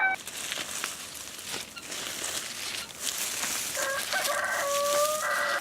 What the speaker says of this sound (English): feed it to the chickens.